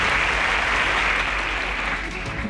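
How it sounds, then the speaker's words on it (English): A studio audience on a contestant show applauds as a contestant exits the stage, a loud continuous clapping that eases slightly toward the end, with no speech over it. "Please, a round of applause for Obafemi as he exits"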